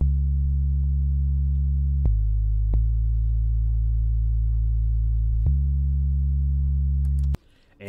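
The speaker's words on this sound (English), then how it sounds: "Next, I made a bass sound, which was an Icarus bass. It's nothing but a sine wave." A pure sine-wave sub-bass synth in FL Studio plays long sustained low notes that shift pitch a few times, each change marked by a faint click, before cutting off near the end.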